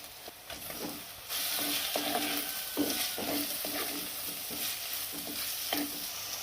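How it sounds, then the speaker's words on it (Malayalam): Chopped tomato dropped into sautéed onion, ginger, garlic and green chilli for a Kerala squid curry: a quiet start, then a sudden steady sizzle with regular scraping and knocking of a spatula, close up and wordless. "ഇനി നമുക്ക് ഈ അരിഞ്ഞു വെച്ച തക്കാളിയോട് ഇട്ട് കൊടുക്കാം."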